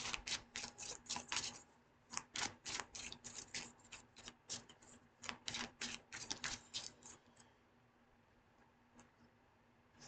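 Tarot cards from the Ukiyo deck being shuffled, a quick flurry of crisp flicking and riffling snaps close by, in bursts for several seconds before fading to a quiet pause.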